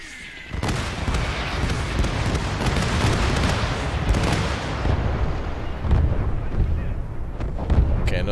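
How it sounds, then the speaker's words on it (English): Heavy artillery barrage in the Gates of Hell war game, a dense continuous roar of overlapping booms and blasts that swells in after a brief quiet start and stays loud throughout, punctuated by sharper impacts. "Wow, incredible amount of artillery."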